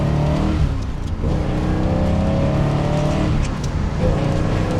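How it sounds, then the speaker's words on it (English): A 1968 Corvette Stingray with its tri-power V8 engine revving hard on a test drive, a loud rumbling exhaust rising and falling in pitch as the car accelerates, heard close from inside or near the car. "You hear that old tri-power come alive, man"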